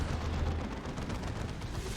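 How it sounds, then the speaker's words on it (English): Demolisher cannon fire in the Dawn of War II Retribution strategy game, a loud, dense rumbling blast with a continuous roar of battle noise throughout a short burst. "We see another Demolisher cannon coming down."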